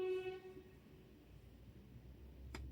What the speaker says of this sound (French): Pourquoi tu klaxonnes, toi?